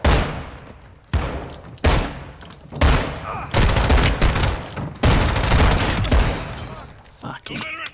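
Heavy gunfire from a big gun in Call of Duty: Modern Warfare 2: loud, dense bursts of shots in rapid clusters with booming impacts, close and sustained across most of the stretch.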